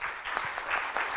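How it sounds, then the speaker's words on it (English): A conference audience applauds panelists at the close of a session, a brief burst of mixed clapping at moderate volume, fairly close, with slight uneven pulses. "maybe applause for our esteemed panelists"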